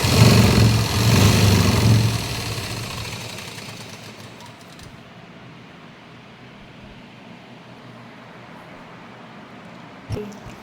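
A sewing machine stitches a straight seam on a kachera, its motor running loud and steady for about three seconds before stopping, leaving a low hum and quiet room noise.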